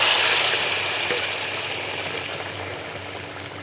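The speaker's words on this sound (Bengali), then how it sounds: "আমি এবার কিছুটা পরিমাণ জল দিয়ে দেবো পাশের উনুনে গরম জল করা রয়েছে গরম জলটাকে দিয়ে দেবো" Hot water poured into a pan of tilapia fish curry with bitter gourd and potato, a steady splashing pour that is loudest at the start and eases off gradually, with no talking.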